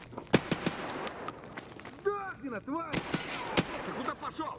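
Hip-fired gunshots in the video game Escape From Tarkov: several sharp, loud shots at irregular intervals, with a brief excited voice breaking in partway through.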